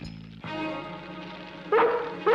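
A cartoon dog in an animated Batman episode barks during a fire rescue scene, with two loud, sharp barks bursting out near the end over a steady bed of dramatic music.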